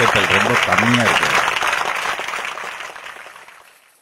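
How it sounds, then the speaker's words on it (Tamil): Audience clapping, scattered and thin, begins under a speaking voice and fades steadily to near silence within a few seconds. "கைத்தட்டல் ரொம்ப கம்மியா இருக்கு"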